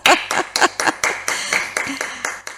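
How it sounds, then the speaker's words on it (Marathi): One person claps by hand about nine times in a steady, slightly slowing rhythm, each clap sharp and close, with a faint voice underneath. "जरा थांब मी टाळ्या वाजवते"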